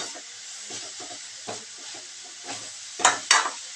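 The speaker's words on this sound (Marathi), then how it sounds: "हे चमचेने कालवते म्हणजे थोडा वेळ लागून पकड पण नाही आहे" Carrot halwa being stirred with a spoon in a pan, giving soft scraping and shuffling strokes in an uneven rhythm, up close, ending with two louder scrapes.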